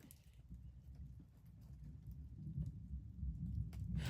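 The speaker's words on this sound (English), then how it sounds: "It's thundering." Low rumbling thunder during a tornado rolls continuously at moderate level, swelling louder toward the end, with a few sharp knocks and clatter near the close.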